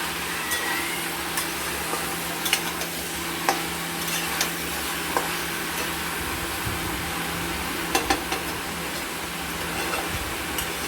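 Mutton and onions frying together in a pan: a steady sizzle runs throughout, broken by repeated scraping strokes as the pieces are stirred. There is no talking.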